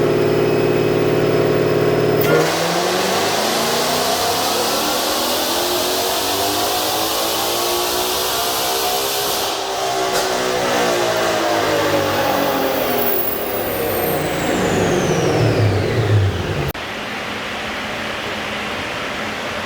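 A 2020 Ford GT500 with a ported blower and new pulley revs hard on a dyno, its engine pitch sweeping up in a long, loud pull, then dropping back to a lower drone near the end.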